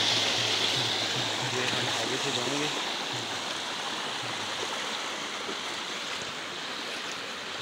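Water tumbles down over rocks in a stream at Shahdara Point near Islamabad, a steady broadband rush that stays constant, with someone briefly speaking over it at the start.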